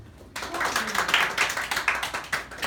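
Church congregation clapping together after a prompt during a service, rapid overlapping hand claps starting abruptly and continuing at a lively pace, moderately close in a room.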